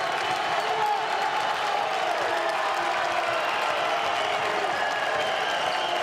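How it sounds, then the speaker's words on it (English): A college basketball arena crowd roars with sustained cheering and applause, a dense, steady wall of noise with no break. "This crowd is electric from Vanderbilt."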